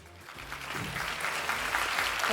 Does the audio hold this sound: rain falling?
no